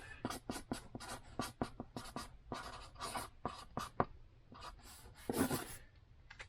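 A pen scratches out a short handwritten note on a USPS shipping label, giving quick close strokes with brief pauses between words.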